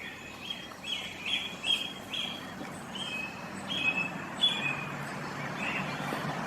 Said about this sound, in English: Some little blue tits and stuff coming down to feed them robins.